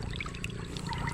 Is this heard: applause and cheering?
no